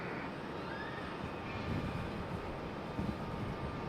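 Piper Archer light aircraft on approach to land at Raleigh Durham airport, a steady broadband engine drone heard from a distance, fairly constant in level throughout.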